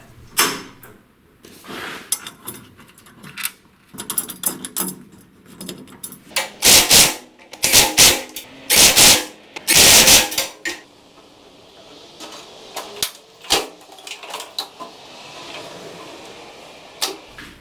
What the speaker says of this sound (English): I switched back over to the impact driver